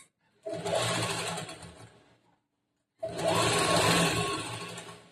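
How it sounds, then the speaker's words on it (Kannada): A sewing machine runs straight stitches along the lining of an A-line kurta in two steady bursts of whirring, the first about two seconds long, then a pause before a longer second run, close and clear with no talking. "ಇಲ್ಲಿಂದ ಇವಾಗ ಸ್ಟ್ರೇಟ್ ಆಗಿ ಸ್ಟಿಚ್ ಮಾಡ್ತಾ ಹೋಗ್ಬೇಕು"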